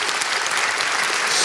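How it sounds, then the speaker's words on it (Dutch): Brief burst of loud, dense applause from an audience, a continuous close clatter of many clapping hands with no pause. "je moet hun echt een applaus"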